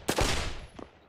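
A couple of gunshots from a gun in Pavlov VR, a sharp loud crack with a ringing tail and then a fainter second shot shortly after.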